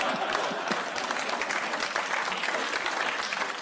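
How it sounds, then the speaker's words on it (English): Studio audience in a British comedy panel show clapping in a steady, even wash of applause from many hands, fairly loud and continuous with no voices over it. "A British audience clapping uncertainly."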